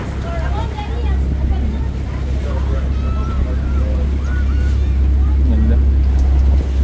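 A boat cruises across choppy water on Sarangani Bay, its engine a steady low rumble under constant wind and hull noise throughout, with voices talking intermittently over it.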